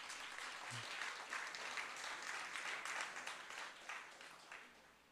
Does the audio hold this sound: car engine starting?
no